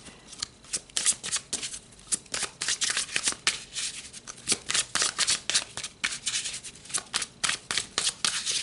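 Tarot cards shuffled by hand in a rapid, steady run of crisp riffling bursts, close and fairly loud, with no talking.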